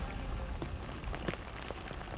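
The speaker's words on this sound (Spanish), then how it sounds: "Y al fin llovió. Lluvia graneada sobre la tierra seca" Steady rain falling on dry earth in a rural valley, a soft, even patter with scattered drops, fairly faint and continuous with no voices.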